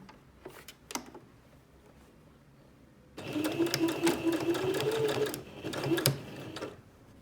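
A sewing machine stitches around the side seam of a fabric cover for an iPad mini in one steady run of about two seconds. Lighter clicks and handling come before it, and a short second burst follows.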